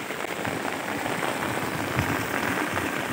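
A downpour drums on farmland, close and steady, as a loud, unbroken wash of falling water with no talking over it.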